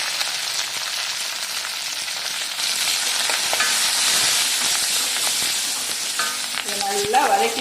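Red chillies, curry leaves, shallots and asafoetida sautéing in a pan, a loud continuous sizzle and crackle with stirring scrapes and brief clinks near the end.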